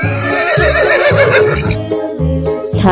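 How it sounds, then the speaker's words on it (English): A loud, close horse neigh from an animal video game, a long wavering whinny that rises and falls in pitch and ends with a short snort, with no talk over it. "Horse."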